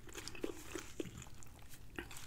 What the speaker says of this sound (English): I'm so in love with eating my salad like this because it's less work chewing.